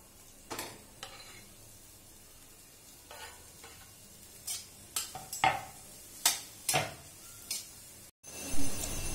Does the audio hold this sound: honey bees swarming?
no